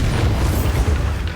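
A Bombarda spell explosion in the Hogwarts Legacy video game, heard as a loud, deep, rumbling boom that fills the whole short moment with no talking.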